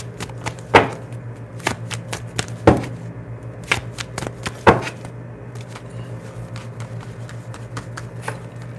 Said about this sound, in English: Bear with me as I shuffle and get into the energy.